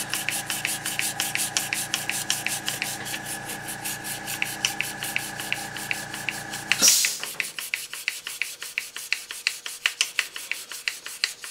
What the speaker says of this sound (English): let's just take a dry piece of 600 grit paper and see what happens